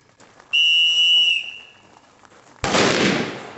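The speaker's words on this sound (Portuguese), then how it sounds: "Após o apito, na direção dos alvos," A sharp police whistle blast, loud and close, starts a tactical mobile police training drill during a Minas Gerais military police course, held steady for about a second before fading, followed by a sudden broadband burst like a shot or firework.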